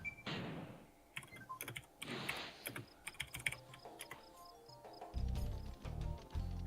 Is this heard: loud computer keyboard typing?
yes